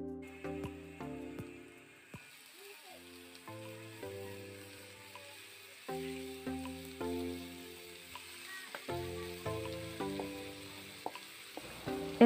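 Ground beef sautés in a pan with onion and garlic, giving a soft, steady sizzle that sits under prominent background music.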